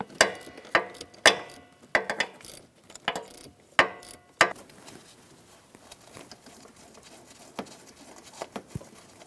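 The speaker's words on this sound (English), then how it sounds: "using a 10mm socket, loosen up this bracket, holding our harness to the throttle" A 10mm socket ratchet loosens a bracket holding a wiring harness to the throttle on a 2002-2006 Honda CR-V, giving several sharp clicking bursts in quick succession, then quieter scattered ticks and small metallic handling noises.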